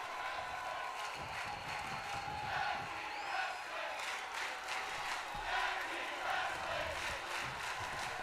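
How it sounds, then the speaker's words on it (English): A wrestling video game arena crowd during a tag team match roars and chants steadily throughout, a dense sustained mass of voices with rising swells and scattered shouts. "you hear the crowd chanting tag team wrestling"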